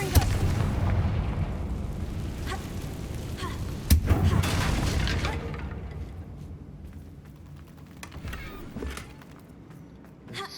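A Confringo blasting spell in Hogwarts Legacy lets off a heavy booming explosion with a sharp crack at its peak, followed by a rumbling tail that slowly dies away under scattered game sounds.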